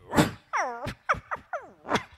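A comedy stage performer in Bongaigaon imitates a puppy barking, giving about six short yipping barks and whiny yelps in an uneven rhythm, close and clear with no other sound.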